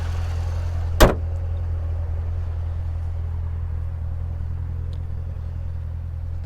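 A 2017 Chevrolet Corvette Z06 idles smoothly with a steady low, even rumble, interrupted near the start by one sharp click or thump.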